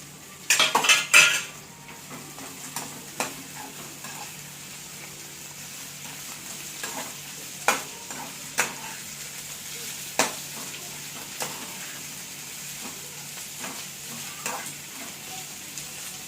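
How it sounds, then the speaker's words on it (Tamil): Onions sizzle steadily in hot oil in a pan as tomato chutney is cooked, with a spoon clattering and scraping against the metal in scattered clicks, loudest at the start. "எண்ணெய் போட்டுட்டு லைட்டாக கொஞ்சம் ஹீட் ஆனதுக்கப்புறம் வெங்காயம் போடணும்."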